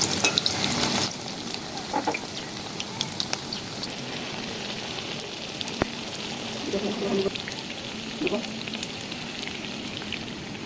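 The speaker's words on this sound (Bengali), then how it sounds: "একটু চেষ্টা করবেন ডুবো তেলে ভাজতে, আর ডুবো তেলে ভাজলেই এই জিনিসটা খেতে খুবই মজা হয়।" Ash gourd leaves deep-frying in oil give a steady crackling sizzle with scattered pops and brief stirring scrapes, close and continuous, and a voice is heard talking faintly at times over the frying.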